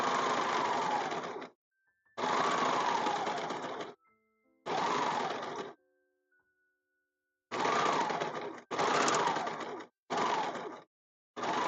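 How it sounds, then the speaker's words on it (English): Sewing machine stitching in six rapid whirring bursts, each a second or so long, separated by short silences; close and clear. "my sewing machine"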